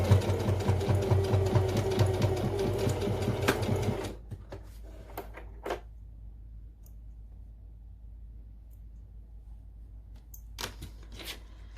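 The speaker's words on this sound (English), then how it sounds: "you can just sew across and come back up the other side" A sewing machine stitches across a fabric pouch in a fast, steady whirring run for about four seconds, then stops, leaving quiet room tone with a few faint clicks and handling sounds.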